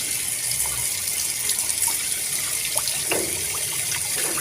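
Salted chicken is washed under a running tap in a sink, a continuous close splashing flow of water with small irregular splashes and no talk.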